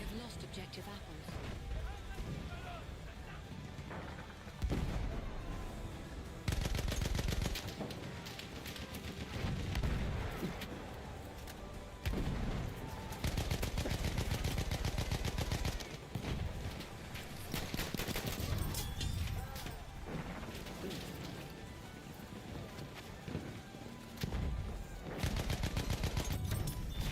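Rapid rifle and machine-gun fire from Battlefield 1 crackles in repeated bursts across a noisy battlefield, with in-game voices and a player talking between volleys.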